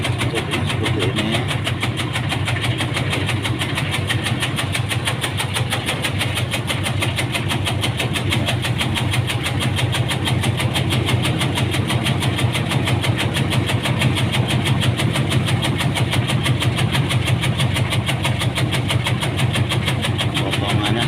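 A cutting machine engine runs continuously at a steady mid-pitched drone with a fine rapid pulse, loud and close throughout, with no speech.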